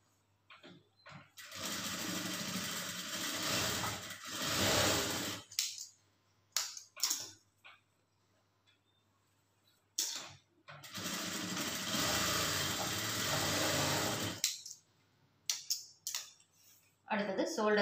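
A sewing machine stitches a plain blouse in two long, steady runs of rapid whirring, each lasting several seconds, with short bursts and handling sounds between, close and fairly loud.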